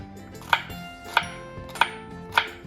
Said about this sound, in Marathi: इथे मी भेंडी चिरून घेतले